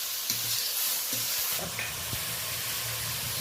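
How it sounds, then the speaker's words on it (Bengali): Onion, tomato and green chili stir-frying in a pan, a steady close sizzle with a few soft scrapes of a stirring utensil, no talk. "যত সময় না কাঁচা গন্ধটা যাচ্ছে, কাঁচা ভাবটা যাচ্ছে পেঁয়াজ, টমেটো, কাঁচা লঙ্কা, তত সময় ভালো করে নাড়াচাড়া করে নেব"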